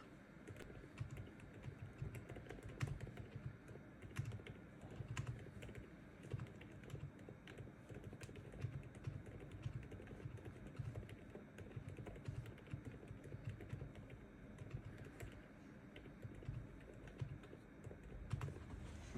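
Keystrokes on a GMK67-S mechanical keyboard, a steady, fairly quiet stream of muted typing clicks with a few sharper taps, continuing alone without talk.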